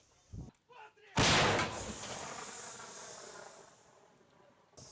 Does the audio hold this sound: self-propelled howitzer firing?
yes